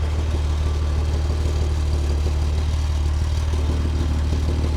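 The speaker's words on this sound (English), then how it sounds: "Listen to the exhaust whenever I put my leg near it." A Chevrolet Corvair idles while its exhaust puffs against a leg held close to the pipe, giving a steady, close, low rhythmic pulsing with no talking.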